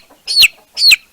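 A young chick with a scissor beak gives two loud, shrill peeping chirps close to the microphone, each one sharp and rising, with a short pause between them.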